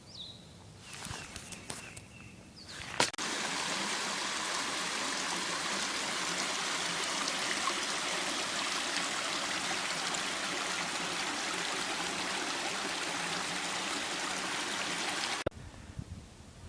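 Wilson Creek flows in a steady, close, even rushing wash, about six miles into a hike, after a few seconds of rustling and footsteps at the start.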